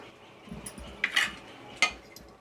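Pav bhaji with butter, coriander and oil separating on top being stirred in a pan, giving soft scrapes and a few sharp clinks of the spoon against metal at a close, moderate level, with no talking.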